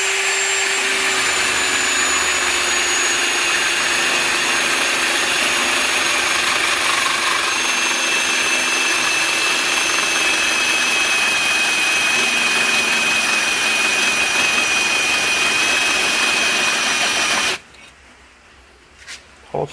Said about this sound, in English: Now using the next bigger sized hole saw